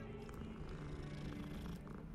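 A cat purring in the Hogwarts Legacy video game, a steady low rumbling purr that runs continuously and softly, heard alone without speech.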